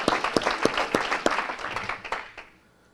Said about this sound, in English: we can take our hand claps up a little higher